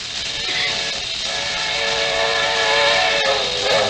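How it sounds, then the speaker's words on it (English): A steam train rumbles past close by, its whistle sounding steadily over the clatter, fairly loud throughout. "There's a train coming."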